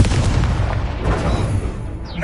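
A Confringo blasting curse explodes in the Hogwarts Legacy game on PS5, a dense, continuous booming rumble with layered crackling bursts that stays loud across the whole stretch, with no voices.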